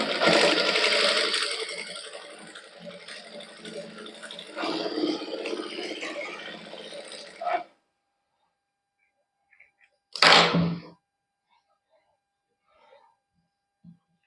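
A sewing machine runs continuously for several seconds, stitching both sleeves of a garment together in a single pass, then stops, followed by silence and one brief loud clatter.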